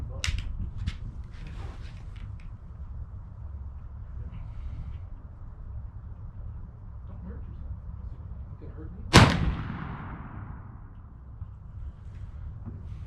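A P53 Enfield rifle musket fires a single loud, sharp shot outdoors at a shooting range, with a long echoing tail that fades slowly over steady wind-like background noise.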